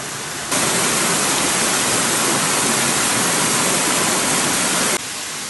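Steady rushing water of a mountain stream flows continuously, a dense broadband hiss like a nearby stream, loud and unbroken with no voices.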